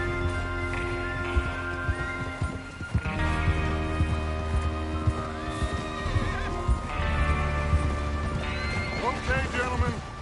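Horses whinnying and snorting with clip-clopping hooves in Red Dead Redemption 2, several loud neighs over heavy engine-like rumble, with people talking throughout.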